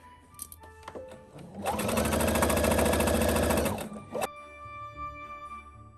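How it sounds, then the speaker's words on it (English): Sewing machine running a steady fast stitch around the perimeter of a pillowcase for a Christmas present pillow, loud and close for about two seconds, with handling clicks and fabric shuffling before and after. "let's sew all the way around our perimeter"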